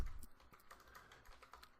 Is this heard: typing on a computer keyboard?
yes